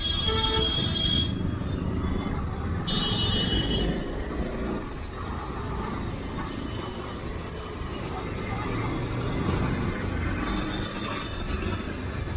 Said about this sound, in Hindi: इतने बड़े हॉर्न बजा के कहाँ जाएगा यार। बहुत तेज़ साउंड था भाई